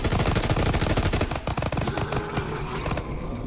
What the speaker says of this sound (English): He got like some kind of alien gun.